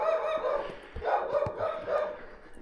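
Several dogs bark in a street in Ohrid, North Macedonia, a string of sharp, moderately distant barks in irregular bursts with no talk.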